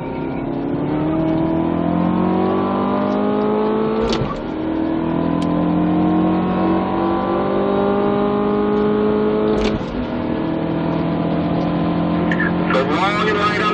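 A stock 2017 Chevrolet Camaro Turbo 2LT laps Spring Mountain Motorsports Ranch, its engine loud and close as it climbs through the revs, with brief breaks around gear changes and a coaching voice heard over it.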